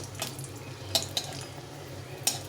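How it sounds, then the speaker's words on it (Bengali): Lentil-pumpkin bori dumplings made from kalai dal, frying in oil in a pan, with a steady low sizzle and a few sharp clinks of a spatula stirring, close up. "তো আমি প্রথমে বড়িগুলোকে ভালো করে ভেজে নিচ্ছি"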